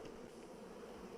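Honey bees buzz softly around an open hive, a faint continuous insect drone with no voices.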